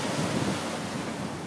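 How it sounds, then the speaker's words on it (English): Surf washes and churns in a dense, continuous rush as big waves splash onto rocks, with wind noise mixed in, close and fairly loud. "Here comes another big wave. It's going to be splashing up on these rocks any minute."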